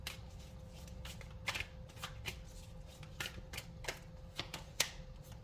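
Tarot cards are shuffled with quick, crisp riffling flicks over a faint low hum, close by and fairly quiet, in irregular bursts.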